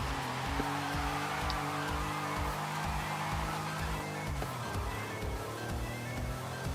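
A Porsche in Forza Horizon 5 drives with a continuous engine drone and a pulsing low rhythm from the road, steady and close throughout.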